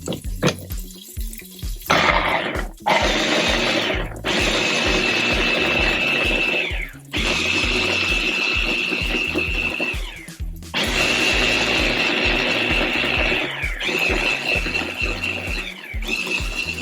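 A blender purees garlic, ginger, two green chilies and tomatoes for a black-eyed pea curry, a loud, steady whirring roar that runs in several long bursts separated by brief stops, with no talk.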